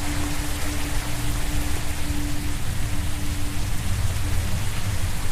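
Steady, dense rain pours without pause in the dark horror video game Pulang Insanity, a constant close hiss with a faint low hum beneath it and no voices.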